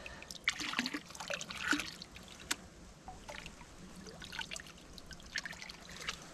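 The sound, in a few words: creek water trickling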